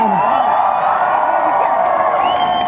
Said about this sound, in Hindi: जरा जोर शोर से तालियां हो जाए